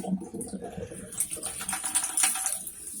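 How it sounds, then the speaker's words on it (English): Hot water runs from a campervan shower tap, a steady hissing splash with faint clicking and trickling over about three seconds, close by and fairly quiet. "That's the hot water."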